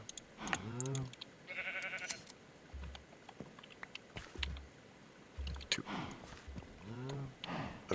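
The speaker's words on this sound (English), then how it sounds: "I think I have sheep over here." Sheep bleat repeatedly in the Minecraft modpack Enigmatica 2, their calls recurring over a busy game soundscape with low thuds and an occasional chime-like tone.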